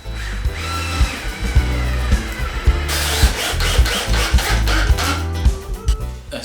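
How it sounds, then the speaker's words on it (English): A cordless drill with a hex attachment drives screws into recycled timber while a rustic wooden workbench is being built. The motor whirs in short repeated bursts, with clicks and thuds as each screw seats, close and loud. "I'll just put the hex attachment into my drill bit."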